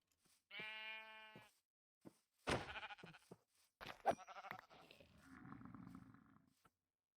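A video game sheep bleats once with a wavering cry, followed by a few scattered thumps and a softer, rougher animal call, all fairly quiet.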